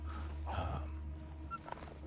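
A wolf in a video game whimpers and yelps as it runs off, with a few faint, brief whines fading toward the distance over a steady low background hum.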